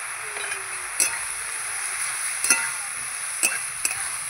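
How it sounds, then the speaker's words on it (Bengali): Water lily stems with turmeric and salt stirred in a frying pan, a steady soft sizzle broken by four or five brief scraping knocks of the spatula, close and without talk. "ভালো করে নাড়িয়ে চাড়িয়ে নেব।"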